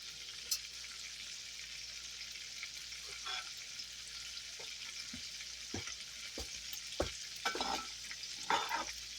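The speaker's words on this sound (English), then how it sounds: "Now we're just going to fry this until it's done." Pork tenderloin fries in a deep fryer with a constant bubbling hiss, broken by several sharp pops and crackles. No one talks.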